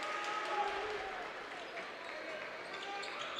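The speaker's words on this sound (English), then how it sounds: "Here the Harrison fans clapping for the seniors there." Basketball fans at a high school game in Harrison clap for the seniors, steady applause filling a gym with crowd murmur, heard at moderate distance under a commentator's voice.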